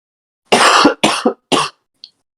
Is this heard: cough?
yes